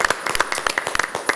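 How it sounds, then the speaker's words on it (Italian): A studio audience on an Italian TV show claps in a brief, dense burst of close, crisp hand claps that patter rapidly and evenly throughout, with no talk over it. "L'applauso di tutto lo studio"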